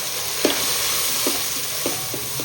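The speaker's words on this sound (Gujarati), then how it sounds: "આપણે કાંદા ટમેટાને વઘારમાં મિક્સ કરી દેવાનું છે" A continuous soft sizzle of chopped onion and tomato frying in spiced tempering in a pan for masala khichdi, with a few light clinks of stirring scattered through.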